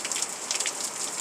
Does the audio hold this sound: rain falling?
yes